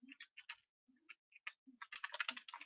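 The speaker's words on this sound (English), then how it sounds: "by typing" Computer keyboard being typed on to open a command prompt: sparse, irregular key clicks, then a quick dense run of keystrokes near the end, close and fairly quiet.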